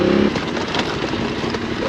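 An adventure motorcycle, a Yamaha Tenere 700 or Husqvarna Norden, rides a rough green lane in the Lake District, its engine droning loudly and steadily with wind and clatter, no talk heard.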